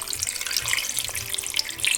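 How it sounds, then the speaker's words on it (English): Filtered water runs steadily from a kitchen tap into a pot holding beef bones for pho, a continuous close hiss and splash over two seconds with no talking. "I'm gonna add filter water then."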